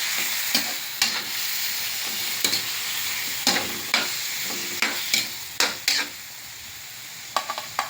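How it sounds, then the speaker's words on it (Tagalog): Chicken pieces for tinola are added and stirred in a pot, giving a steady sizzling hiss broken by frequent sharp knocks and scrapes of a utensil against the pot, close and continuous. "Lagay na natin ang manok."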